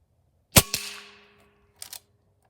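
An Air Venturi Avenger air rifle fires at a target about 25 yards away: two sharp, close cracks in quick succession with a brief ringing tail, then a softer double clack of the action about a second later.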